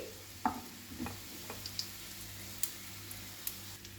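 Fish roe fritters (fish egg bhaji) fry gently in oil on a low flame. There is a faint, soft, steady sizzle with scattered light ticks and pops, close by and quiet, and no voices.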